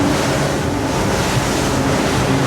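An E-Motion 36 motorboat cruising at 30 knots with its engine at 3450 rpm, heard as a steady, loud rush of water and wind noise from on board, with no talking.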